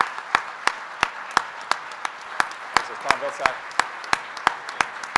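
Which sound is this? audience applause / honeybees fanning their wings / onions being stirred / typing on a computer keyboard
audience applause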